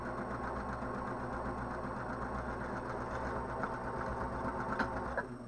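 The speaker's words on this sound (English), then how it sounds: "I am gonna back stitch these" A sewing machine runs steadily while back stitching apron fabric, giving a continuous low mechanical hum and rapid needle chatter at moderate volume, with no talk.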